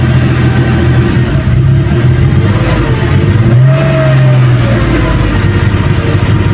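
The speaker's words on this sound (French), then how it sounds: "On va essayer de mettre quelques petits coups de gaz." Porsche 911 3.2 flat-six engine fitted with an ethanol conversion box, running lean, idling loudly up close, then a throttle blip swells the revs midway before settling back to a steady idle.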